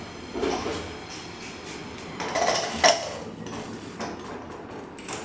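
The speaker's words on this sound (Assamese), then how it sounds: "আকৌ এতিয়া মই ঢাকনিখন লগাই দিম।" A metal lid goes onto a pressure cooker with a few soft scrapes and clanks and one sharper clink near the middle, fairly quiet and close, with no speech.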